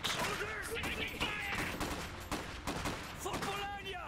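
Battle noise from the strategy game Iron Harvest, with steady gunfire and bursts of shooting under in-game voices and shouting throughout.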